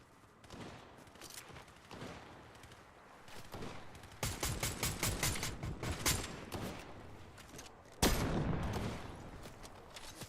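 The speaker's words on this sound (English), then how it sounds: "Oh, somebody else is shooting at me." Gunfire in a battle royale video game, with bursts of rapid shots and automatic fire that start faint and grow closer and louder, ending in a sharp, heavy volley.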